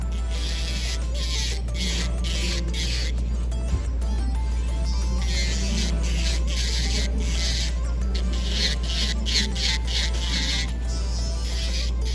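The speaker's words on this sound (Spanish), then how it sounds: "Voy a utilizar mi broca cónica y perfecciono su área de cutícula." A conical drill bit on an electric nail drill files around a nail's cuticle area, giving a continuous close, gritty whir with regular rubbing pulses.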